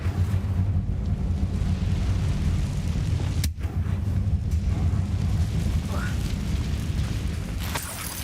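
The Incendio fire spell is cast in Hogwarts Legacy, producing a sustained low roaring rumble with a sharp burst partway through. The game's fiery, booming effects stay loud and dense throughout.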